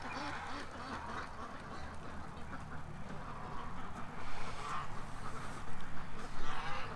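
Ducks quacking and geese honking in a noisy, overlapping squabble as a goose attacks a duck, steady throughout and growing slightly louder toward the end, with a little background talk.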